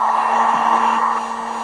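A heat gun blows hot air onto a part, making a steady, close whir with a low electrical hum underneath. It runs continuously with no voices.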